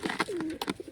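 A pigeon at a loft with chicks gives a short, close cooing call, a soft gliding coo between a few throaty notes.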